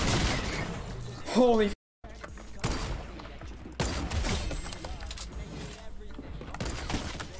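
Gunshots in Fortnite ring out as a few sharp, loud cracks amid a busy game mix, with a brief dropout and an excited voice exclaiming near the start.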